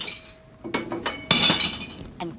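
Green glass bottles tossed into a bottle bank, a few bright clinks and smashing impacts in quick succession, close by and alone without speech.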